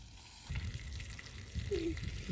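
Fish fries in a pan over an outdoor cooking setup in the middle of a forest, giving a steady, fairly quiet sizzle broken by a few soft bumps and stirring knocks.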